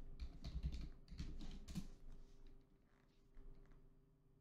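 Typing on a computer keyboard, with a few quick bursts of soft, close key clicks that fade into quiet near the end.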